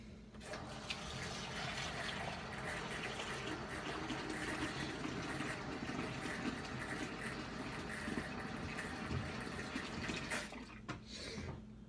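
Steady, continuous rush of tap water pouring into a bowl in a kitchen sink, close and loud, running unbroken for about ten seconds before cutting off near the end.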